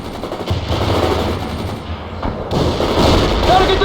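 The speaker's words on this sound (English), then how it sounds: "Launch those grenades now!" Grenade launches and gunfire in the World in Conflict war video game: dense bursts of machine-gun fire and booming explosions overlap continuously, loud and close, with shouted voices faintly mixed in.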